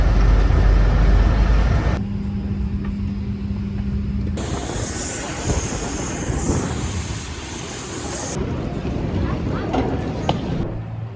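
Airliner engines drone in a steady, loud roar during a long-haul flight to Gold Coast, Australia. The rumble shifts in tone across several abrupt cuts, with a brighter whine in the middle section.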